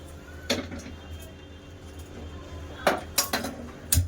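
A metal wok is set down on a home gas stove while cooking fish and crab, giving a few sharp clanks and clinks, one early and a cluster of three or four later, close and clear over a low hum.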